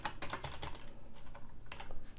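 Typing on a computer keyboard during Photoshop work: a quick, close run of light plastic key clicks in uneven bursts, fairly quiet, with no voices.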